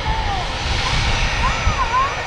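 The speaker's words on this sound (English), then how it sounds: "Nice aircraft, this." Passenger jet at Manchester Airport, a loud, steady engine roar with whining tones, heard under people chatting.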